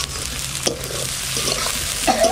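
Dried chili, bay leaf, cumin and masala paste fry in oil with a steady sizzle, broken by several clattering stirs and scrapes of a utensil in the pan.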